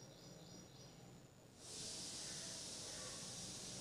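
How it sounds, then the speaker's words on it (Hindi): Salted puris frying in hot refined oil over a high flame: a quiet background gives way midway to a loud, steady, close sizzle that continues to the end. "रिफाइंड में तल लेंगे। इन्हें हाई गैस रखना है।"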